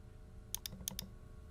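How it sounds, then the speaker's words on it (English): Two quick double clicks of a computer mouse at a desk, four sharp faint taps in close pairs against a quiet room hum, no voices. "So I'm going to actually double click on that."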